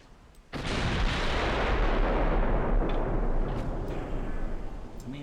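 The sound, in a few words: battleship guns firing in video game Ultimate Admiral Dreadnoughts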